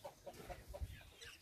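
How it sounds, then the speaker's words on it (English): Domestic turkeys on a farm in Trinidad give faint, repeated clucking calls in a quick, irregular series, heard at a distance with no talking. "He's trying to breed the turkeys."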